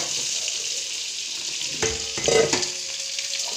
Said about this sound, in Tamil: கருவாடு வறுத்ததில் கடுகு போட்டிருக்கு, வெங்காயம் போட்டிருக்கேன். நல்லா வதக்கிக்கோங்க.